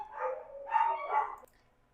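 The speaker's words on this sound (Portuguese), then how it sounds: "Vou acalmar mais os cachorros ali." Dogs barking indoors nearby, two short bursts of muffled barking within a couple of seconds, then quiet.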